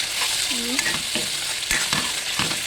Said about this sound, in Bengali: ভালো করে কষিয়ে নেব মশলাটাকে ভালো করে কষে নিলাম